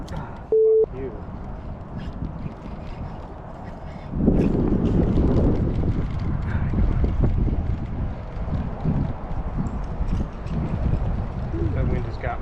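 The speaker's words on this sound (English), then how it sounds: "That wind has got me." Gusting wind buffets the microphone while kayaking in a Pelican Seek on open water, a steady low roar that swells louder about a third of the way in and stays strong, with water noise beneath.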